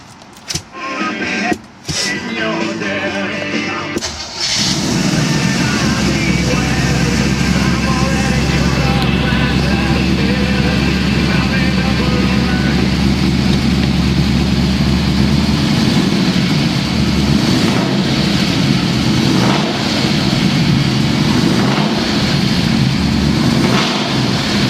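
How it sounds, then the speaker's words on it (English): A 1969 Camaro Z28 with a Cross Ram engine cranks briefly, fires up loudly, and settles into a deep, steady, slightly lopey idle that holds close and strong throughout. "Let's fire it up."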